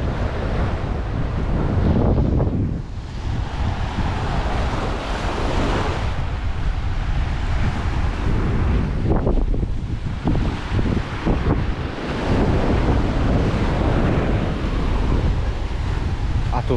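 Ocean waves crash and wash steadily on a wild beach near the Golden Gate Bridge in San Francisco, a loud continuous roar with heavy wind buffeting the microphone.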